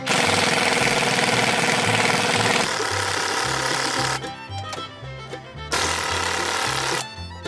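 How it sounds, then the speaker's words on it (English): An impact wrench hammers on a trailer axle in loud, rapid rattling bursts that stop and restart several times, with short gaps of quieter clanking between runs. "you can actually get an impact wrench under here instead of having to do it all by hand with a hand wrench"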